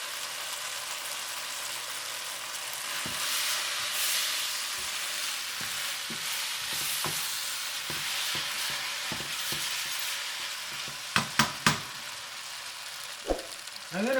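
Onions and ground pork fry in a hot pan with a steady broadband sizzle, joined by a few sharp clicks and scrapes of stirring toward the end; no one speaks.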